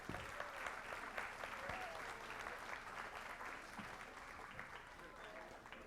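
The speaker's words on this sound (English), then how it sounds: "Let's give this outstanding grandparent another round of applause." Applause from the audience at a school board meeting rolls on steadily as a grandparent is honored, a dense continuous patter heard from a distance and fairly faint, with crowd murmur mixed in.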